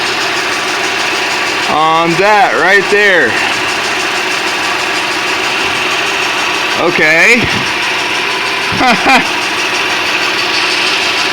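2011 Ford Fusion Sport 3.5L engine running at a steady idle throughout, a constant mid-level hum beneath a voice that talks in brief bursts.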